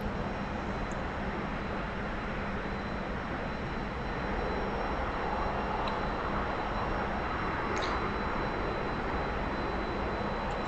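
A T-45 trainer's jet engine in the DCS flight simulator gives a steady, broad roar during formation flying, holding constant with only slight swells throughout.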